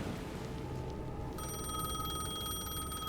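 A telephone rings in the video game Alan Wake 2, a bright electronic bell tone starting abruptly partway through over a low ambient hum, loud and continuous.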